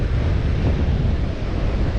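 Surf on a Durban beach: a steady, loud wash of breaking waves mixed with wind buffeting the microphone, continuous with no voices.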